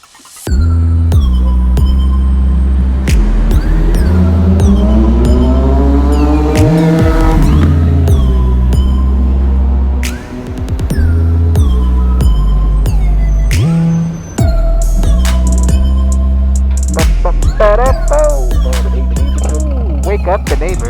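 Indian Scout Rogue motorcycle riding through midtown New York streets, its engine droning loudly and steadily with rising and falling revs and a brief dip in the middle, traffic noise around it.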